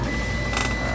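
A Prusa i3 3D printer (FolgerTech 2020 build) homes its axes, stepper motors whirring steadily and loudly up close for the whole second with a slight rise partway.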